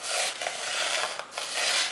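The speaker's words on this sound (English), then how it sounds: "Go back and forth, smoothing your cake." An acetate smoother is rubbed back and forth across a fondant-covered cake, making a steady, close-up rasping scrape that keeps going through the whole stretch without a break.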